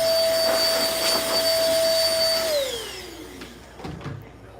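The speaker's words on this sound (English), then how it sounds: "I'm gonna blow them off first, so got the studio blower here." A studio blower at a barbershop blows hair clippings off a client's head with a loud, steady whirring whine that then winds down, its pitch sliding lower as it stops.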